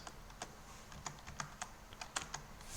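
Computer keyboard typing while entering a report title into a text box, a steady run of light, close clicks with uneven spacing and no voice over it.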